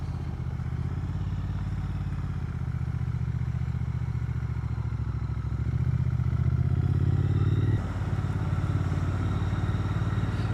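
Triumph motorcycle riding through countryside on an autumn morning, a steady low engine drone with wind rush that swells a little in the middle then eases, heard from the rider's position without speech.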